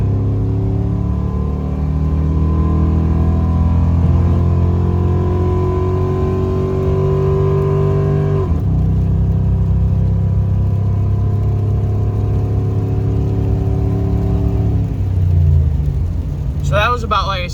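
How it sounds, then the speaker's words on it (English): An LS V8 truck engine hums and revs steadily, its pitch rising and falling with gear changes, loud and close throughout. "The engine sounds good."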